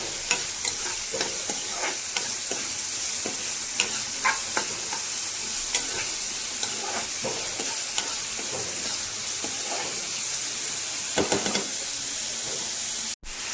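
Onions sizzle and fry in a pan while a spoon scrapes and stirs them at intervals. A steady hiss runs under clicking stirring strokes nearby, and no one speaks.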